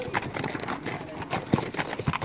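A mule team descending Bright Angel Trail, hooves clopping in an irregular patter on the rocky path, fairly close, with trail noise around and a voice briefly heard.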